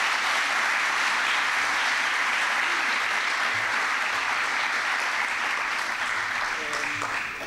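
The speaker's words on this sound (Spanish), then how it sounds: "Un aplauso," Audience at a PyConAr 2012 Python conference talk applauding steadily for several seconds, a dense even clapping that fades slightly at the end.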